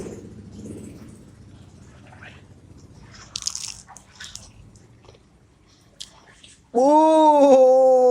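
Warm fried Indonesian snacks (gorengan) at a morning nasi uduk stall are chewed with a few soft, close crunches and bites over low background murmur. A loud, sustained tonal sound cuts in near the end.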